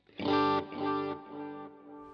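Electric guitar through a Line 6 HX Stomp set to a low plate reverb: a few distorted strummed chords ring out and decay into a smooth reverb tail, close and with no talking.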